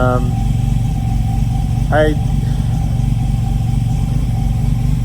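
A Subaru-style S5 Killer Bee engine is running on its first start, a steady close idle rumble heard throughout under brief bursts of background voices.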